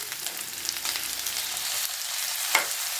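Onions with ginger-garlic paste and curry leaves frying in a pan for prawn thokku, a steady hissing sizzle heard alone, with one short scrape of a spoon near the end.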